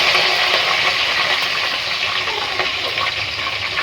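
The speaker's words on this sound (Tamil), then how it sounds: "கருவேப்பிலை நல்லா பொரிஞ்சிருச்சு" Curry leaves frying in hot oil for a vathal kuzhambu, a loud steady sizzle and crackle that carries on without a break, close by, with no voices.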